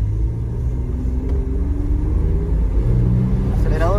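A 2003 Chevy Trailblazer lacking power from an engine temperature sensor fault, its engine held at full throttle: a loud, close, sustained low roar and rumble that stays steady without distinct rises.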